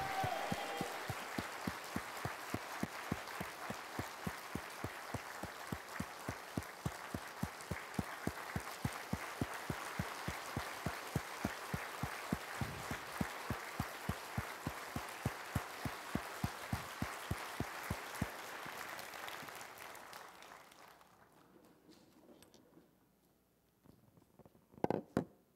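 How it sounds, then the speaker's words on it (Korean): A church congregation claps steadily for about twenty seconds, a dense rhythmic applause in a large room that stops abruptly and leaves near silence with a few faint knocks. "하나님께만 모두 영광의 박수 올리겠습니다"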